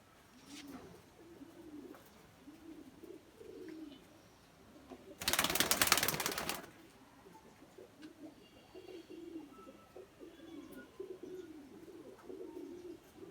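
Soft, repeated pigeon coos in a steady rhythm nearby, interrupted midway by a short burst of loud noise before the cooing resumes.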